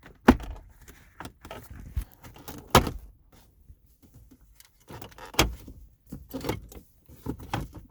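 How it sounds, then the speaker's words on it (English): Plastic shifter surround trim being pulled up and out of a Nissan R33 interior, with sharp close clicks, snaps and rattles of plastic scattered among quieter handling noises. "Now we can pull out our shifter surround. Simply just pull up."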